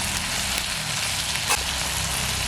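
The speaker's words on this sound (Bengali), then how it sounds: "একই তেলের মধ্যে এখন বেগুনগুলো ভেজে নেব।" Eggplant pieces fry in hot oil, giving a steady, close, broadband sizzle throughout with no speech.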